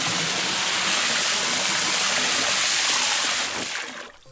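A cartoon-style water jet splash for a children's elephant story, where an elephant blasts paddling-pool water from its trunk at a robber: a loud, steady gushing spray lasting several seconds before it tapers off abruptly.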